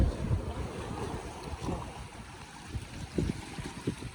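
Strong waves around a boat off the coast, a broad rushing wash with irregular surges and slaps, constant wind buffeting the microphone close by, no voices.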